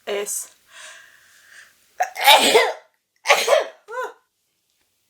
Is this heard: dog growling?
no